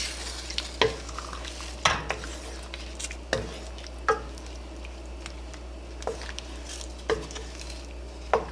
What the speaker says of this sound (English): stirring your stew, you have to do it gently because you don't want to break the fish into pieces